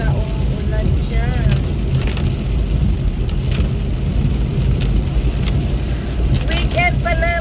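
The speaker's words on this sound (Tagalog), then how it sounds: "nakikita nyo ang lakas ng ulan niya, sobra. Grabe. Ayan, grabe ang ulan, guys." Heavy rain hammers a car driving on a road in Germany, a dense steady drumming on the roof and windshield over a low road rumble. A voice talks over it at times.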